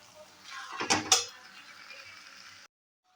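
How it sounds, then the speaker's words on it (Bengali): Fish head being stirred into rice and spices for muri ghonto, a short burst of scraping and clinking of a utensil against a metal pot, close, rising to two sharp knocks before fading into a soft rustle. "মাছের মাথাটা কিন্তু এর সঙ্গে মিশিয়ে নিচ্ছি, যাতে মশলা চাল সব কিছুর সঙ্গে যেন মাছের মাথাটাও মিশে যায়"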